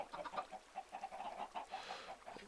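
Chickens on a Minecraft chicken farm cluck in a busy overlapping stream, soft and a little distant, with no talk.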